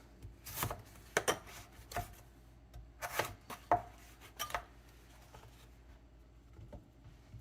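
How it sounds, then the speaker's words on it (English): Chayote being sliced with a knife on a board, a few sharp irregular cuts and taps separated by quiet pauses, close but soft, with no talking. "I'm just going to slice them, I guess"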